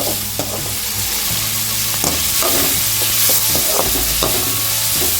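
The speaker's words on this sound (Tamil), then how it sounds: "வெங்காயத்தை போட்டு நல்லா வதக்கிக்கோங்க" Onions sautéing in oil in a pan for a Kerala kadala curry give a steady, close sizzle, with spoon stirs and scrapes breaking through now and then and no voices.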